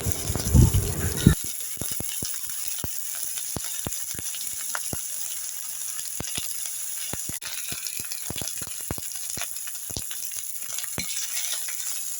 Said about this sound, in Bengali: এখন আমি এখানে পেঁয়াজ কুচি, রসুন বাটা, আদা বাটা, হলুদ গুঁড়ো, মরিচ গুঁড়ো, জিরের গুঁড়ো সব কিছু দিয়ে ভালো করে কষিয়ে নিব।